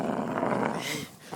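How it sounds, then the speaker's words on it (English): A dog growls loudly and continuously at close range for most of the moment, then trails off, with a person's voice mixed in. "look how she growling at me"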